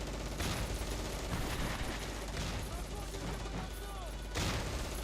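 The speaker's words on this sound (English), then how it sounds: "there goes a nice amount of mortars" Mortar rounds and battlefield gunfire in the WWII tactics game Close Combat: Cross of Iron: a dense, continuous rumble of blasts and crackling shots, with heavier booms rising at intervals.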